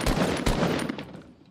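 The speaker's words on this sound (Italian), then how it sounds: "gli sparo giusto per ammorbidirli" Gunfire in the battle royale game Fortnite: a rapid burst of several sharp shots, the first few loud and close, then quicker fainter pops trailing off, with no voices.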